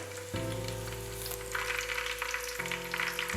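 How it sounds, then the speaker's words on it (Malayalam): Shallots sizzle steadily in hot oil for a Kerala beef curry, a close, continuous crackling hiss with a low hum beneath it. "അപ്പോൾ നമ്മുടെ കൊച്ചുള്ളി നല്ലോണം ഒന്ന് മൂത്ത് വരുന്നുണ്ട്."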